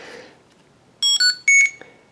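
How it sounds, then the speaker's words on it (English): A few short electronic beeps from a Yuneec Breeze camera drone powering on, close and clear, in a quick uneven pattern in an otherwise quiet room. "when you turn this on, it gives you a beep"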